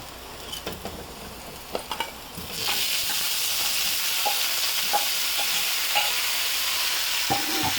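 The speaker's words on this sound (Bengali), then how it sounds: "আমি যে বেগুনগুলো কেটে নিয়েছি সেই বেগুনগুলোকে ছেড়ে দেব" Cut eggplant is dropped into a pan of frying onions. After a few soft clinks and stirs, a loud, continuous sizzle bursts up and holds steady at close range, with light scraping now and then.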